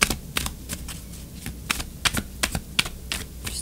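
Tarot cards shuffled by hand, a quick irregular run of crisp riffling snaps and flicks, close and clear, with no voice over it.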